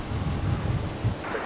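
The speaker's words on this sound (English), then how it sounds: "the wind's still varying, so it's between 10 to 25 knots" Strong, gusty wind of 10 to 25 knots at Brisbane Airport roars and buffets the microphone in a dense, continuous low rumble, loud and close, with no talk.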